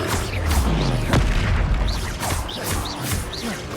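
In Hogwarts Legacy, a Confringo fire spell goes off as a dense, booming blast with crackling bursts and short whooshing effects, loud and continuous throughout.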